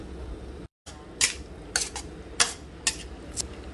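Chicken giblets stir-fried with sweet peppers and onion in a pan, a soft background hiss broken by several sharp metallic scrapes and clacks of a spatula against the pan, close and spaced irregularly, no talking.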